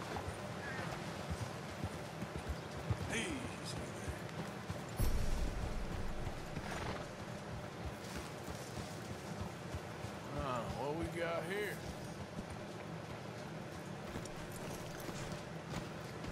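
A horse gallops in Red Dead Redemption 2, its steady rhythmic hoofbeats running throughout at moderate volume, with occasional game sounds and someone talking over it.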